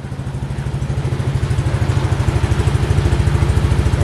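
Yamaha Aerox scooter engine idling after valve seal work and port matching, a close, loud, steady chugging putter with a fast even pulse that runs throughout.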